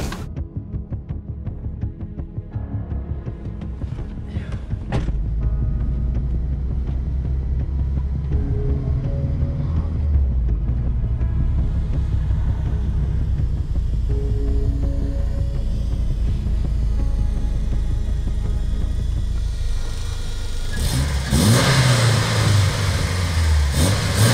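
An Opel GSi engine on a race track during a warm-up lap. It rumbles and builds steadily as the car gets going, rising to a louder surge near the end, with no talking.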